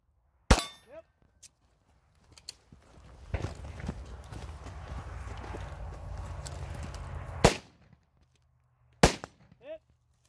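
Pistol shots at a 3-gun shooting stage ring out as a sharp crack near the start and two more later. A sustained rough noise and clanking fill the middle, recorded close outdoors.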